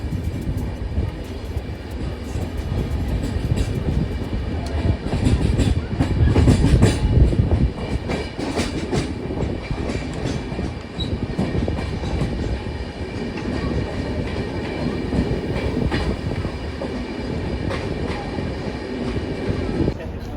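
The Kota Janshatabdi Express, an Indian Railways train, rolls steadily along the rails, curving into platform 1, with a continuous heavy rumble and rhythmic clatter of wheels, loud and close throughout.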